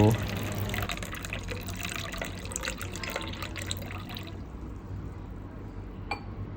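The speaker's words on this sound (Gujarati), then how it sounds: "ત્યારબાદ તેમાં આપણે થોડું પાણી એડ કરશું" Water is poured steadily into a glass to make fennel sherbet. It is a close, continuous splashing fill that runs for about four seconds and then stops abruptly.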